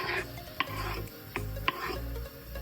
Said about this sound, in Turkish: Soğanlarımızı verdim. Hemen kavuruyorum. Kavurmaya başlıyorum.